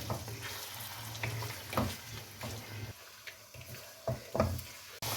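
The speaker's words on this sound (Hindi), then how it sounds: "अब इसे दही के साथ भून लें।" Mutton heart and liver fry with whisked yogurt in a pan, giving a soft, close sizzle broken by scraping stirs and occasional louder spatters.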